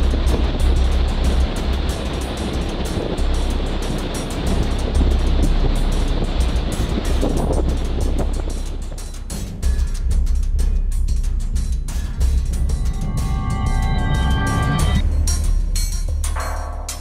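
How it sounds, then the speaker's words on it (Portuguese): A furious sea churns around the São Pedro and São Paulo archipelago, a tiny rocky outcrop rising 18 metres from ocean 4,000 metres deep, its steady broadband roar of surf and wind loud at first, then giving way to tonal sounds. "Hoje, o mar está em fúria."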